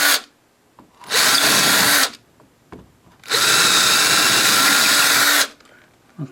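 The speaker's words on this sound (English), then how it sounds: "I'm going to drill this out" A power drill bores out a door hinge in two loud, sustained bursts, a shorter one then a longer one, separated by quiet pauses with small handling knocks.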